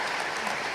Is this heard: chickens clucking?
no